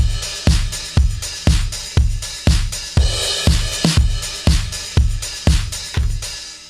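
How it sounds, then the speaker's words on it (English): Drum loop from the Butch Vig Drums library by Native Instruments: a steady, punchy kick-and-snare pattern repeating at an even tempo, loud and dry with no voices. "So the song originally started with just a little drum loop."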